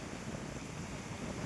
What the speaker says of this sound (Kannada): ಇಲ್ಲಿ ಗಾಳಿ ಜಾಸ್ತಿ